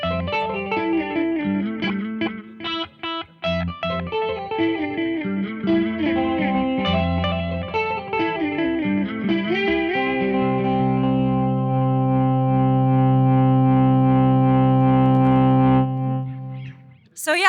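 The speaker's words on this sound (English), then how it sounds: "this original guitar dry signal blended in, but the delays are very pronounced" Guitar played through a Walrus Audio Qi Etherealizer with parallel delays, dry signal blended under pronounced repeating echoes; picked notes and chords give way to a long sustained, swelling chord that rings out before a brief final attack.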